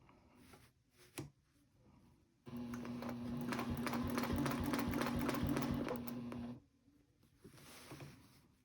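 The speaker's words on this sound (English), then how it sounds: "I'm just going to stitch across to that point there where I started." A sewing machine stitches across a quilt with clam shell quilting, running in one steady four-second burst of rapid mechanical whirring and ticking, framed by quieter handling noises before and after, close and without talk.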